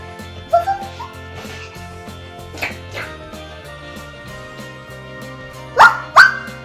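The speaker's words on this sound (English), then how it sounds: "Dog says woof, woof." A dog barks a few separate times, with a short pair early on, one midway and a louder double bark near the end, over soft background music.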